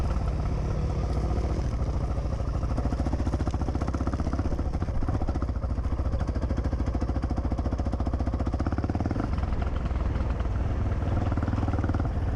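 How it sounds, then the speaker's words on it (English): A Honda XR650R motorcycle rides over a rough riverbed, its engine droning loud and steady throughout, with a rapid, clattering, hammer-like pulse and occasional rattles from the uneven ground. "The XR650R moves much faster over this kind of ground than my WR450."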